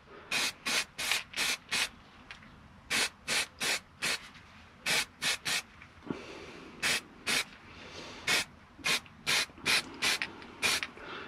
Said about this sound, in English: I'm just going to give the top now a little bit of a spray as well.